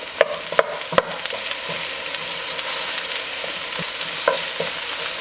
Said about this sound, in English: I added my onions in. You'll stir these around for about 1 minute, 2 minutes.